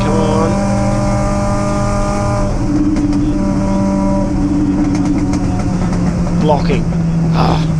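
MG race cars howl past on the final lap of an invited circuit race, loud sustained engine tones rising and falling as several cars pass one after another, with a voice talking over the noise.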